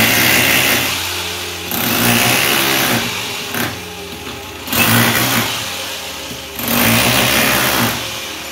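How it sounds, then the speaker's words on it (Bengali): A power cutter saws into a masonry wall to make room for a pillar during renovation of a brick building. It gives loud, harsh grinding bursts in about four long passes with brief drops between them, and no voices. "আর সেই হিসাবে কাটা হচ্ছে ওয়াল"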